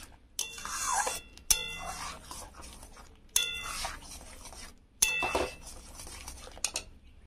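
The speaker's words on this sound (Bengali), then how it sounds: "এবার এখানে ভালো করে আমি ফেটে নেবো এইভাবে" Palm fruit batter being beaten in a bowl, with bursts of clinking and scraping utensil strokes against the dish separated by brief pauses, close and fairly quiet.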